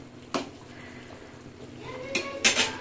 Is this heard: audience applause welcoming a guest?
no